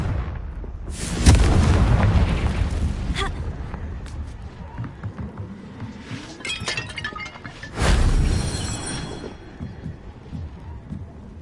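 The Confringo blasting spell in the video game Hogwarts Legacy goes off in two loud, close explosive bursts with shattering debris, separated by crackling rumble and scattered impacts.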